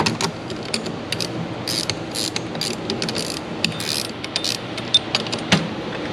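A heavy-duty coil spring compressor on a Holden ute's Pedders suspension being wound down with a ratchet or tool, giving a steady run of close mechanical clicks and clatter with a few sharp metallic knocks.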